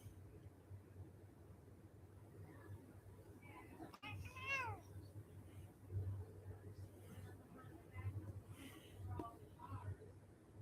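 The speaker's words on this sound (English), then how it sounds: "So if you just heard noises, it's the cat messing with the microphone." A cat fiddles with a microphone during a live stream, producing faint scattered rustles and a couple of brief meow-like chirps over a steady low hum.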